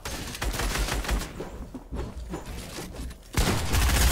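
Gunfire in the video game Fortnite: a loud dense burst of rapid shots, a brief lull with scattered pops, then another heavy volley near the end, with no talk over it.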